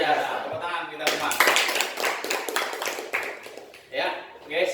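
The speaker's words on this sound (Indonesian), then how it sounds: "Tepuk tangan kita semua." Seminar audience clapping at a motivational talk, a few seconds of scattered hand claps over a noisy hall, with a voice speaking in the room.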